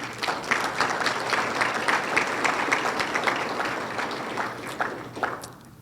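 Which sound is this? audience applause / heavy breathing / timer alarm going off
audience applause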